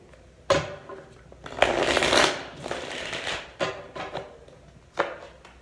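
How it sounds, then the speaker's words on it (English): A deck of cards gets shuffled during a Halloween pick-a-card reading, with several bursts of riffling and soft slaps, close and fairly loud, separated by brief pauses. "One more shuffle for death for our Hershey."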